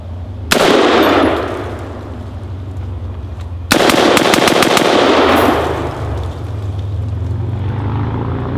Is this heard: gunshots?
yes